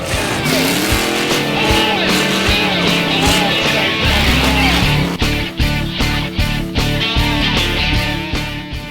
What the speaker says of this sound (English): Now we're going to do a drag race.